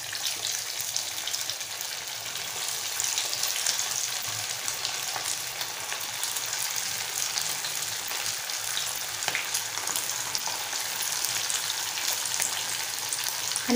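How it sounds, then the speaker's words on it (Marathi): Sabudana vada, which are sago patties, deep-fry in hot oil with a steady, dense crackling sizzle. The sound stays even and close throughout, with no voices. "आता आपण ह्याला तळून घेऊया।"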